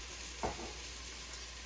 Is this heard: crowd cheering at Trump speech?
no